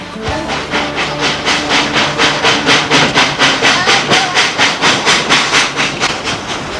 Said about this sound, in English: steam locomotives are still pulling revenue-earning trains